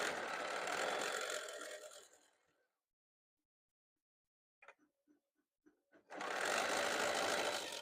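A sewing machine stitching a quilt block, a loud continuous whirring run that winds down, a pause with a few faint clicks, then another steady burst of stitching.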